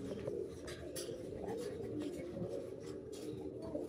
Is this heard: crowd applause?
no